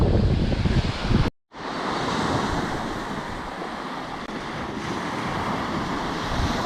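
Waves break and wash steadily onto a windy sea beach, a loud, close, continuous roar of surf mixed with heavy wind buffeting the microphone, with a brief cut-out near the start.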